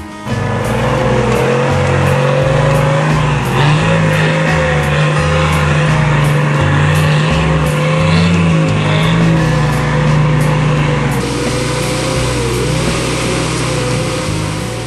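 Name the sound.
Nissan Patrol 4WD driving off-road, engine revving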